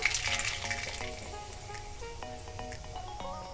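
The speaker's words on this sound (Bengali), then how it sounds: "শুকনো লঙ্কা ও তেজপাতাটা ভাজা হয়ে যাওয়ার পর" Dried red chillies and bay leaves fry in hot oil as a tempering, giving a steady close sizzle with light crackle and some clinks of a utensil throughout.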